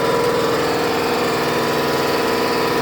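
Porter Cable 30-gallon 155 psi air compressor running, a loud, steady motor drone with a rapid pulsing chug that continues evenly for the whole stretch, no talk over it.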